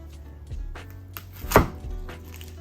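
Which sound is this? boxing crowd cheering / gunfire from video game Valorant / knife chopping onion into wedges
knife chopping onion into wedges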